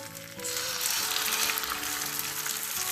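Bourek brick pastry sizzles steadily in a frying pan as it is laid in, a continuous hissing fry that swells slightly after the first half second, close and fairly loud with no talking.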